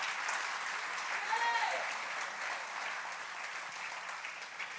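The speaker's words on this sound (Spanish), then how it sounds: "Alguien lo puede celebrar con un aplauso al Señor" Church congregation applauding during a Spanish-language service, a steady wash of many hands clapping at moderate level with a voice rising briefly over it.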